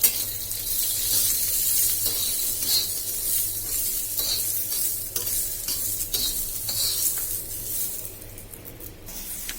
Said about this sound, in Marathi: तेल टाकून घ्यायचंय त्याच्यावर थोडं आणि त्यांना छान भाजून घ्यायचं